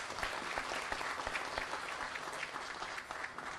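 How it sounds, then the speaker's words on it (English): Audience at a mining industry luncheon breaks into steady applause, dense clapping from a roomful of people filling the whole stretch. "Why don't we give him a round of applause?"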